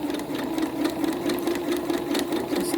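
A sewing machine zigzag-stitches a drawstring bag, running in a fast, even, continuous whir with a steady rhythmic needle clatter, close and alone.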